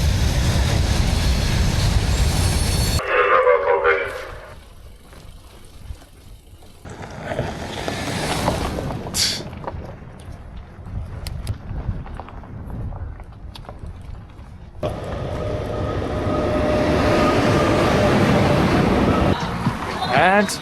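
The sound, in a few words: freight train passing on rails in Russia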